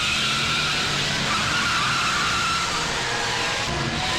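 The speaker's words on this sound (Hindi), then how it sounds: "जल्दी जल्दी गाड़ी चला।" Car tires skid and squeal over a loud, steady engine roar as a vehicle speeds away from police during a chase scene in a Hindi-dubbed South Indian action movie.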